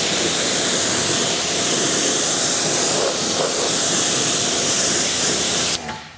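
Steady high-pressure water spray rinses the trim of a Tesla Cybertruck during professional detailing, a loud continuous hiss that runs unbroken for several seconds before cutting off abruptly at the end.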